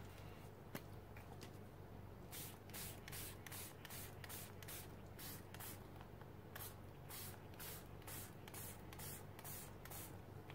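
A spray bottle is pumped in a quick series of short, crisp bursts, sometimes paired, onto a mixed media art journal page, close by and fairly quiet against a faint steady background hum.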